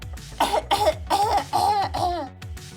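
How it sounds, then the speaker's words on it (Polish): A quick run of about five voiced, raspy coughs in rapid succession, close and fairly soft, each with a strained, throaty tone. "Może powodować kaszel"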